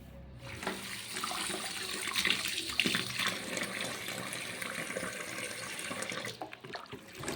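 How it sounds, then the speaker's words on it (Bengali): Bhringraj (kesuti) leaves being rinsed by hand in a bowl of water, a steady splashing, sloshing wash that runs close and fairly loud for several seconds before easing off near the end. "এখন এই পাতাগুলো বেশ খানিকটা জল নিয়েছি জলের মধ্যে ভালো করে ধুয়ে নিচ্ছি যাতে ধুলো ময়লা না থাকে"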